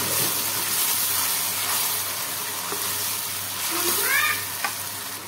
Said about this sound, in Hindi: फ्लेम यहाँ पर हाई है, अदरक लहसुन ऐड कर चुके हैं।